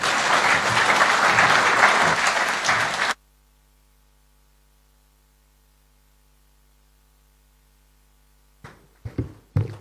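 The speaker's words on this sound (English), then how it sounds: "Another round of applause to His Excellency, the Prime Cabinet Secretary." Audience applause at the International Confederation of Principals World Convention in Mombasa, a dense, loud burst of clapping that cuts off abruptly into near silence with a low hum, then a few scattered claps return at the end.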